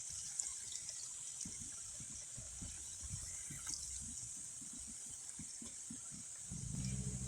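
Jackfruit and puffed rice pitha fry in hot oil over high heat, making a steady, close sizzling hiss that stays even from start to finish.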